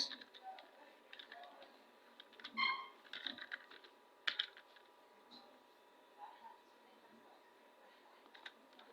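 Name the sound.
typing VBA code on a computer keyboard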